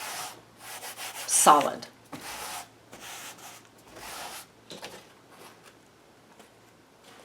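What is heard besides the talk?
paper towel blotting purple paint on paper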